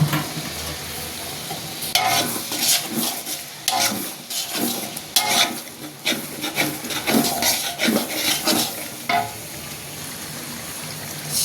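Potatoes and vegetables, with turnip and green chilies nearby, sizzling in a pan while a utensil stirs and scrapes them in repeated rough strokes; close and steady frying hiss under uneven scraping bursts.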